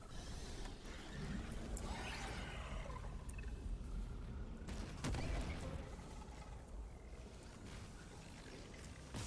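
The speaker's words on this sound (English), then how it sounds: "He survived the explosion." An explosion in the horror video game Dead Space: a sharp blast cutting through a low, rumbling mechanical roar that fills the background and fades afterward.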